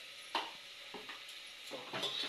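A spatula scrapes and stirs a turmeric, amchur and garam masala rice mixture roasting in a pan, giving a few quiet scraping strokes over a faint sizzle with no talk.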